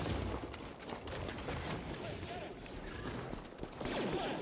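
Stormtrooper blaster fire in the video game Star Wars Jedi: Fallen Order forms a dense, continuous barrage of shots and impacts, loud and close, with a voice talking over the battle noise.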